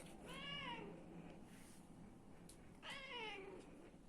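Two drawn-out, complaining meows from a nearby cat, separated by a pause, over a soft background hiss.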